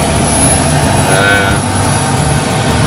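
Small light airplane engine running at reduced throttle on the ground, a steady broadband drone with a faint high whine, loud and close throughout, with an instructor's voice talking over it.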